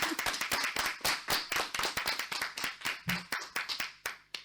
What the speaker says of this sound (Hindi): एक बार फिर तालियां अपूर्वा के लिए।